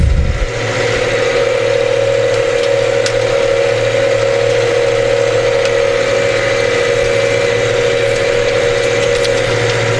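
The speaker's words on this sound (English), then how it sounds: "Who's driving? Is Chat driving the tractor? It turns all on itself" A self-steering tractor mows green manure on a farm, its engine a steady, loud mechanical drone with a constant tonal hum and faint rattling throughout, no talk.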